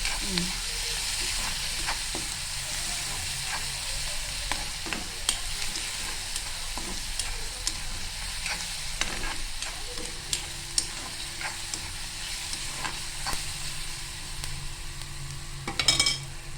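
Chopped onion frying in a pan, a steady soft sizzle with frequent light scrapes and taps of a spoon stirring, a short clatter near the end.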